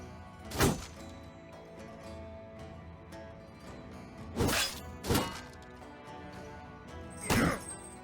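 Heavy melee impacts from a Battle Brothers battle, three loud broadband thwacks with crashing tails, one early and a close pair later, over a low steady game ambience.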